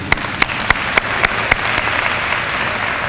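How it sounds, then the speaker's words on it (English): An audience applauds award recipients at a university honors convocation. A few sharp, distinct claps start it, then they blend into a dense, continuous wash of clapping. "Let's give them all a hand of applause again."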